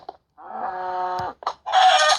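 A video game chicken clucks and squawks in a few short bursts with gaps between, loud and close, with no one talking.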